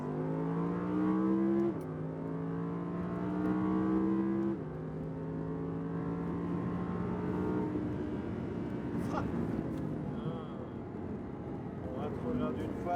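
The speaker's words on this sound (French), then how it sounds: "Allez, on met du gaz." An Audi accelerates on a race track, its engine climbing in pitch through gear changes with abrupt drops between shifts, loud from inside the car, while voices talk beneath it.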